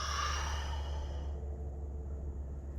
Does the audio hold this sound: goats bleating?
no